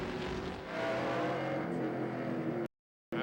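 Race trucks roar past on the track during a 1998 Craftsman Truck Series race, a loud, steady engine blare that holds for a couple of seconds before cutting out abruptly.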